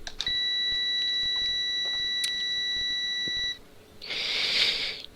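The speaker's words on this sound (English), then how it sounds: "That's actually a beep." A steady, high electronic beep from the Rigs of Rods bus simulator game holds for about three seconds, then stops, followed by a brief burst of hissing noise.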